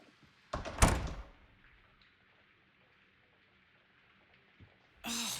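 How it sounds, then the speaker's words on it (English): A bedroom door in the video game Lost Records swings shut with a sharp, close thud and brief rattle, followed by quiet room tone and a soft later bump before another sound cuts in. "I'm closing my door."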